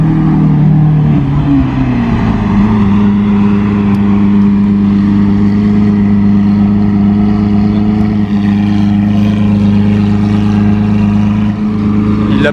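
A Maserati MC12 rumbles loudly and steadily as a valet drives it, its engine note dropping slightly early on and then holding a deep, continuous drone close by.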